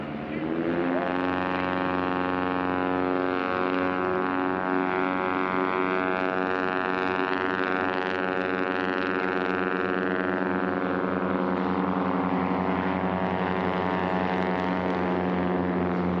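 Two STOL drag race aircraft with reversible pitch propellers, including a MOAC Legend Cub, race side by side; a loud, steady propeller engine drone with strong harmonic tones runs throughout, rising slightly in pitch as they accelerate.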